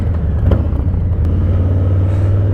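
A Harley-Davidson Low Rider S engine rumbles loudly and steadily while riding, a deep throaty drone with a brief rev swell early on, heard up close without talk.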